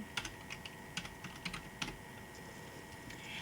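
Quiet keys clatter on a computer keyboard in an uneven run of soft taps, close by, with no talking.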